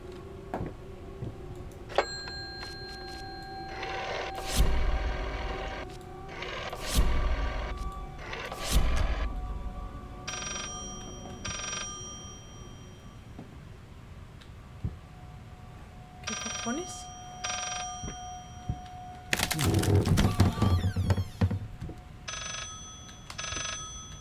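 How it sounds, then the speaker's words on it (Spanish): A telephone rings in repeated bursts within a quiet, eerie room in the video game Layers of Fear, with soft ticking and creaks between the rings. "Niña, coge el teléfono."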